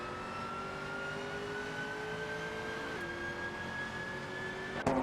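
Simulated GT4 race cars at a virtual Weatherfield circuit, engines droning steadily with a rising whine as one accelerates out of the pits, a continuous close-up roar with a sharp knock near the end.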